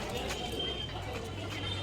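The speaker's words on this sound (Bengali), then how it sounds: "কত পায়রা দেখছো না" Pigeons coo softly at a temple courtyard while pecking at puffed rice, low murmuring calls over a steady background with a voice faintly present.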